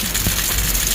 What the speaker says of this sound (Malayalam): ഗൈസ് അതിരപ്പള്ളി വെള്ളച്ചാട്ടം